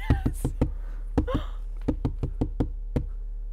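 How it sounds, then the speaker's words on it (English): Sharp knocks on a door, close and dry, arriving in irregular clusters of raps with short pauses between them, heard alone without any talk. "A knock."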